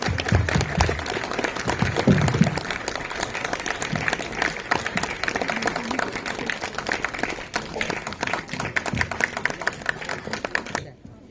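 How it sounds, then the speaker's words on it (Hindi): An audience claps steadily to welcome the chief guests at a church Christmas celebration, with dense, sustained applause mixed with crowd murmur. A few voices come through briefly near the start. "तालियां बजती रहनी चाहिए।"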